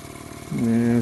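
Model steam engine starting to run at low pressure, a soft hiss giving way halfway through to a steady humming drone that builds and holds, close up.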